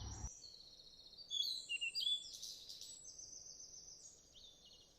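Small birds chirp and whistle in a garden beside a budding ocean spray shrub, a scatter of thin high calls over a faint steady outdoor hiss.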